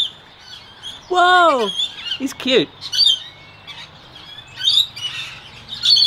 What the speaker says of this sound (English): The bird is on my shoulder.